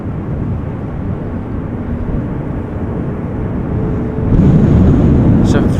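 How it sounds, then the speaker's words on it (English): A Boeing 737 taking off at Amsterdam Schiphol airport during a storm makes a loud, continuous low roar under heavy wind rumble, swelling stronger near the end. ".737 taking off just now."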